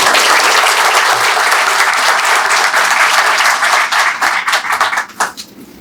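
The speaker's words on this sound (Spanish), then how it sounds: "Fuerte el aplauso." An audience at a book launch in the Dominican Republic applauds loudly and densely, then the clapping thins into a few scattered claps and dies away near the end.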